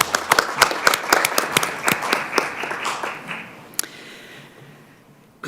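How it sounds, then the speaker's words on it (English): A small city council meeting audience in Redmond breaks into a brief round of applause. The separate, crisp claps are close and distinct at first, then thin out and fade to near silence within a few seconds. "And I think they deserve a round of applause,"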